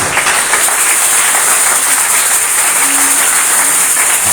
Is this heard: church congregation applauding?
yes